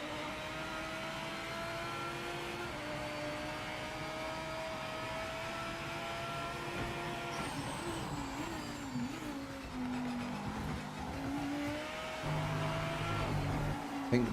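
A Lamborghini race car in the Project Motor Racing video game holds a steady, loud engine drone, its pitch rising and falling through gear changes as the car pushes on continuously.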